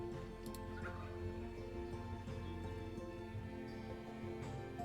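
Wild turkey gobble call from the Wingspan board game app, faint and low, heard against a steady background hum.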